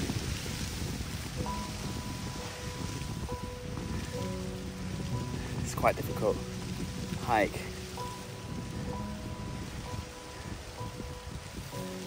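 Steady rain patters across a surface throughout on a steep, windy hiking trail in Sri Lanka, with a voice speaking briefly over it and some wind in the background.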